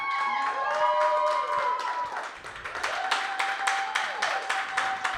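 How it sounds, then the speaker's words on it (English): Audience applause at a live launch recording, a dense wash of clapping with sustained musical tones, the clapping growing more distinct and rhythmic toward the end. "Keep clapping, keep clapping, keep clapping."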